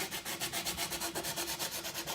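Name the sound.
hand sanding wooden chest with sanding block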